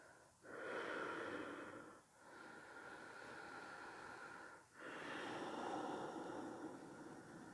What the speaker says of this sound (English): Two big breaths here.